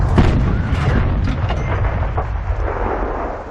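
A KV-1 tank cannon fires in World of Tanks, a heavy booming blast with a rumbling low tail that fills the whole stretch, loud and alone.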